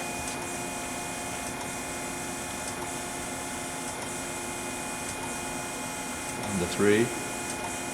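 An Okamoto ACC-6.18DX3 reciprocating surface grinder running a traverse grind, a steady mechanical hum with faint periodic ticks as the table reciprocates, and a brief voice rising over it near the end.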